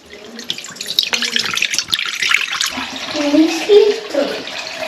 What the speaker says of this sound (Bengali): প্রথমে ছাঁকনি দিয়ে দুধটা ছেঁকে নিতে হবে